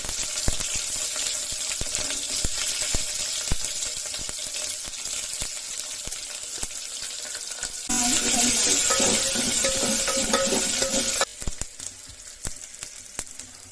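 Onions hit hot oil with curry leaves while making a Karnataka-style radish tambuli, a steady close sizzle with scattered crackles, rising into a louder hiss midway as stirring continues.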